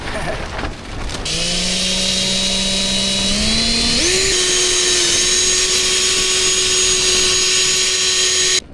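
A power drill bores pilot holes, its motor whine climbing in pitch in steps after a quick start, then holding a steady, loud, sustained tone until it cuts off.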